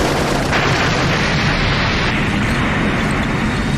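Incoming missiles explode against a ship in an anime battle, a continuous loud roaring blast with dense rumbling that fills the whole moment and has no speech over it.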